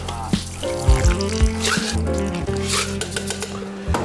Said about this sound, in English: take your Hawthorne strainer, take your fine strainer, and pour in.